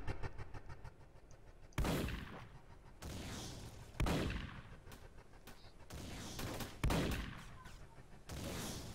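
Roblox gunfire booms out in heavy, evenly spaced shots, roughly every second or so, each one a sharp loud crack that rolls off into a rumbling tail.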